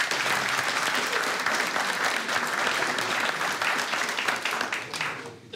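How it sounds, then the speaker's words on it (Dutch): Steady applause from an audience at a mediation or dispute-resolution session, sustained and fairly loud for several seconds before tapering off at the end. "ik vind dat dit een applaus waard is"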